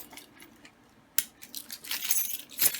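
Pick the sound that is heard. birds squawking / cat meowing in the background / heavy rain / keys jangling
keys jangling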